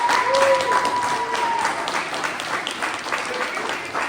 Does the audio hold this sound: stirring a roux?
no